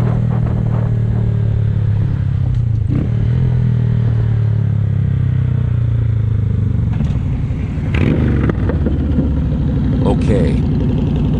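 A Honda Grom motorcycle engine hums steadily while riding, close and continuous with rising and falling tone, some clatter and wind, and a person talking over it.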